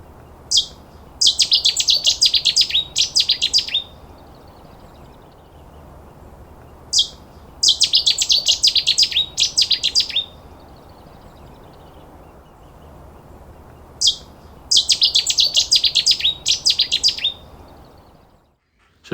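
A Cetti's warbler at its nesting area delivers three loud, explosive bursts of rapid song, each a couple of seconds long and separated by quiet gaps, sounding close against a faint, low background.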